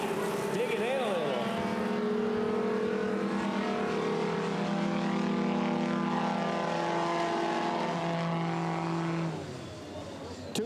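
A race plane powered by two Yamaha snowmobile engines turning 8,000 RPM through a geared prop reduction drive roars loudly past at an air race, its pitch sliding as it passes before fading at the end.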